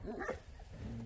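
Large shepherd dogs bark on a farm, a short burst of deep barks and yips heard at moderate distance.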